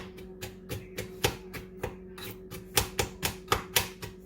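Knife rough-chopping walnuts for banana bread on a cutting board, a series of sharp, irregular chops about every half second, close and distinct with no talking.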